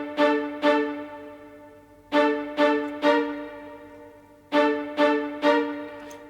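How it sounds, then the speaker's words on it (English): Full orchestral string section playing staccato in a film score: short, sharp bowed chords in grouped bursts with brief ringing decays, sounding clearly with pauses between the groups. "And you got to pair that with some full string staccato."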